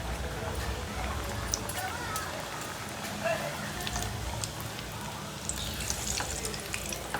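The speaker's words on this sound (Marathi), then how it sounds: "आता मीडियम करूया गॅस आणि आपण करंज्या तळून घेऊया." Karanji pastries with a pea filling frying in hot oil over a medium gas flame, a steady dense sizzle and crackle that continues throughout with faint voices under it.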